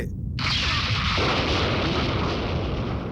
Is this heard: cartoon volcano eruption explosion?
yes